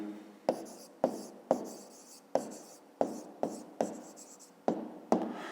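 A pen writes an answer for a fifth-grade maths exercise, making about ten short, crisp scratchy strokes at a steady pace, close and quiet with no talking.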